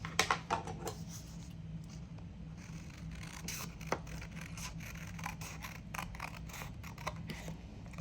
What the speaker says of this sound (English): I can take my bigger scissors